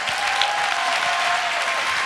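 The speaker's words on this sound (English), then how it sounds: "Let's give him a tremendous round of applause, if you please." A large seminar crowd gives sustained applause, a steady wash of clapping and crowd noise at a constant level, with a faint tone running beneath it.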